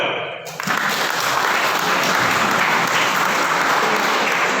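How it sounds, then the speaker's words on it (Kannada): Sustained audience applause fills an inauguration ceremony for a student induction programme, rising from a brief lull into steady, dense clapping from a large crowd. "ಎಲ್ಲರೂ ಒಂದು ಸುದ್ದಿ ಚಪ್ಪಾಳೆ"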